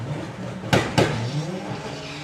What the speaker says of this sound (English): Lupo always launches so well.